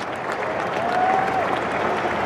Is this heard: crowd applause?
yes